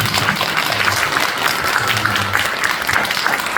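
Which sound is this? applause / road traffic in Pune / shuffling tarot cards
applause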